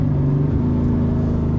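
Callaway Corvette ZR1 with its LT5 V8 holding a loud, steady high-rev drone close by, a smooth continuous exhaust tone with no talking.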